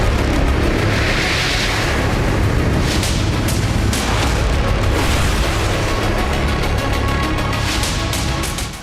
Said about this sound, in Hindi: विस्फोट हुआ और आग लग गई।